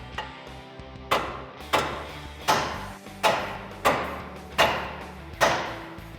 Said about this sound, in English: you're gonna grab a ball peen hammer and we're gonna tap right up against the side here of the knuckle